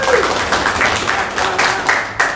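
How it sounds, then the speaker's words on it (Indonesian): A club audience gives a short burst of clapping, uneven pulses of applause rising and falling for a couple of seconds at close range. "Tepuk tangan kalian semua."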